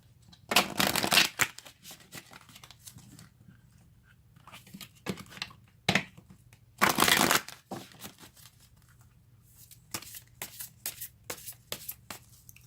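Tarot cards being shuffled and drawn, with two loud riffling bursts and scattered softer flicks and slides of cards between them, close by.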